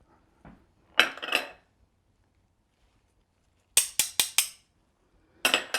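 Utensil stirring pork marinade ingredients in a bowl, heard as a few close, bright scraping clinks in short bursts with quiet gaps between them, and no talking.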